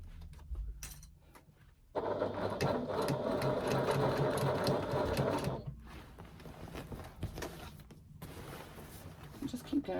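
Sewing machine top stitching fabric, a close steady mechanical whir running for several seconds, pausing, then a softer continuing run with brief stops and quiet handling noise.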